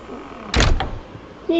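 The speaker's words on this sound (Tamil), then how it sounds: "லைட்டாக கதவு தோறல." A door opens with a short heavy thunk and creak in the horror game P.T., a single close sound, followed by a brief voice.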